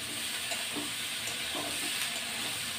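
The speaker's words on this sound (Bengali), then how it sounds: "বন্ধুরা এবার তরকারিটাকে লাল লাল করে ভেজে নেব।" Loud, dense, continuous sizzle of a vegetable curry with stalks frying in a pan, a steady close hiss with faint stirring movements underneath and no voices.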